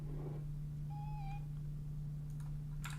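A cat gives one short, clear meow amid a constant low electrical hum, with a faint shuffle afterward and no talking.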